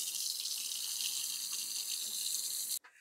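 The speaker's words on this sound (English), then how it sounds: "I'm going to run some water and see if any water does end up in the bucket" Water runs steadily from a faucet into a kitchen sink fitted with a garbage disposal, a close, even hiss that continues until it is abruptly shut off near the end.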